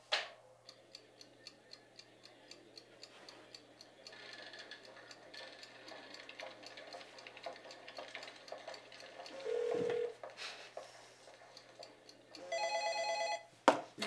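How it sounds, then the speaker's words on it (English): A telephone ringtone from the 1-2-Switch video game on Nintendo Switch chimes in short bursts near the end, following a long stretch of steady ticking like a clock and a brief tone. "This is the ringtone you're waiting for."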